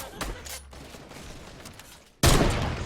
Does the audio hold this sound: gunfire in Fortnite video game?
yes